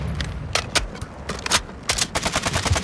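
Gunfire in the video game Warzone 2.0 during a resurgence quad match, with sharp bursts of automatic fire and separate shots cracking close by in an irregular rhythm.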